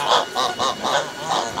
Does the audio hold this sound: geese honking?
yes